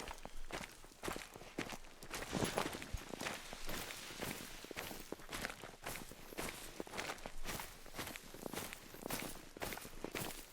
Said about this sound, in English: Rain should hopefully muffle some of my footsteps a little bit.